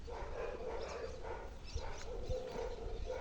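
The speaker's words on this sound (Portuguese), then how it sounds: "Aí o cachorro late." A dog barks several times in a steady, moderately loud series against a noisy background, with no speech.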